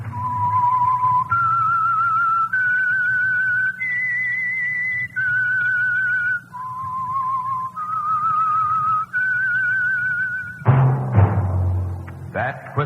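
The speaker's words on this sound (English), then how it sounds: "That whistle is your signal for the Signal Oil Program, The Whistler." Whistled signature tune for the Signal Oil radio program The Whistler: a clear, steady melody of sustained notes stepping up and down, ending with a brief burst of music.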